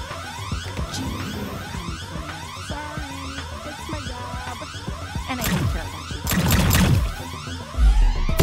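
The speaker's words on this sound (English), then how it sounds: "Yep, I'm gonna set off the alarm." An alarm goes off in the video game High on Life, a rapidly sweeping, wailing electronic tone that repeats in quick cycles. Loud crashes and bursts build over it toward the end.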